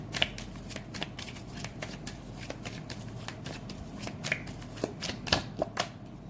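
Tarot cards shuffled by hand in a sequence of crisp riffling flicks and soft slaps, close and fairly quiet, with a few sharper snaps near the end and no talking.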